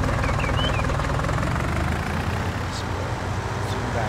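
A tractor engine in the Farming Simulator 2019 video game runs as a loud, steady low rumble with constant throb, continuous throughout and unbroken by talk.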